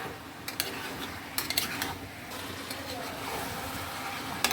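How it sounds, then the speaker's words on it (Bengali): Meat and potatoes browning in a pan, with a soft background sizzle and bursts of metal spatula clatter and scraping against the cookware at irregular intervals. "আলুটা দিয়ে দিলাম, দিয়ে আমি ভালো করে মাংসটা কষাবো"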